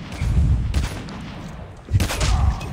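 Gunfire in the mobile shooter game Call of Duty Mobile comes as a few loud, sharp bursts of shots over a rumbling background.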